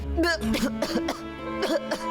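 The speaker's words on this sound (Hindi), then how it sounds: "पता नहीं अचानक खांसी क्यों आने लगी" A few sharp, close coughs burst out in a row, mixed with bits of speech.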